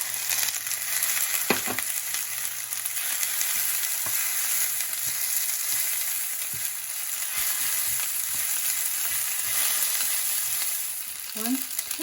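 Noodles and ham stir-frying with onion in a hot pan, a steady loud sizzle throughout with scraping stir strokes and brief clinks of the utensil, no talking.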